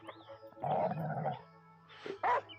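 Eyeless dog growls and barks in the video game Last Day of June, a rough, throaty growl followed by a pause, then a couple of short, sharp barks, close and fairly clear.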